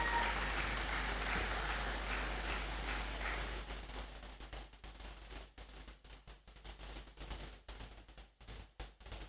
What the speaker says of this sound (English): Please, a round of applause as she comes forward.